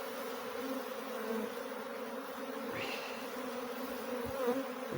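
A honeybee swarm lifts off the grass after a puff of smoke, giving a steady, quiet droning hum of many wings with passing bees briefly louder against the constant background buzz.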